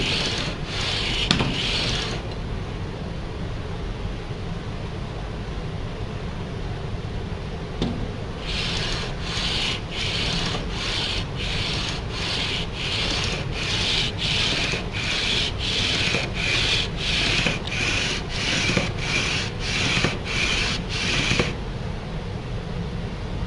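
A sanding beam drawn over guitar frets, first a short rasping burst and then a long run of about fifteen regular back-and-forth strokes, close and clear with no voices.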